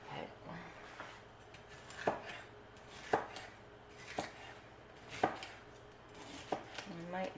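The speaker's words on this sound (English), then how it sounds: "I might not use this last pepper, but I'm going to cut it up" A knife chops a bell pepper on a cutting board in a home kitchen, with sharp, evenly spaced knocks about once a second over a faint background hum.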